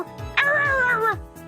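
A person imitates a husky, producing a single drawn-out whining howl that rises and bends in pitch, close and clear, with no talking over it.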